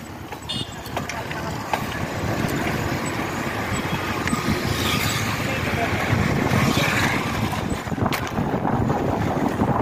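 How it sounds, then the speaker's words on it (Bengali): Strong wind sweeps across a bridge and buffets the microphone, producing a loud, steady, rumbling roar that persists throughout. "প্রচন্ড পরিমাণের হাওয়া।"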